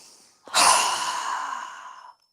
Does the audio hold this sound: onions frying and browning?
no